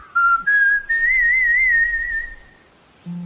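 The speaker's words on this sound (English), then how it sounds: "He began to whistle." A lone melodic whistle, a fairy prince in a flower kingdom whistling a wavering tune for about two seconds before fading out, clear and close.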